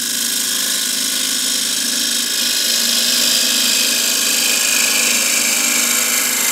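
A gouge cuts inside a cross-grain wooden box spinning on a lathe, giving a loud, steady, continuous rushing whir with no pauses and no voices.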